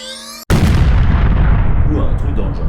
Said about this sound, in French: ça a dû faire un grand boum